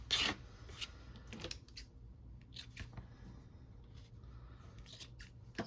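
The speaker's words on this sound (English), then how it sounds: "So I'm literally just coming in here and doing this, just cutting." Fabric scissors snip through fabric scraps in a few crisp, close cuts, each short bright crunch set apart by quiet pauses, with faint handling rustle between them.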